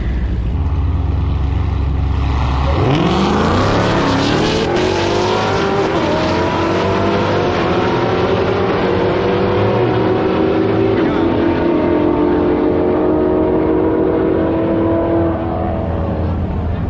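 A Dodge Hellcat on a quarter mile drag run at a street car takeover, its engine roaring loudly from launch and climbing steadily through the gears, one sustained howl that tapers slightly near the end.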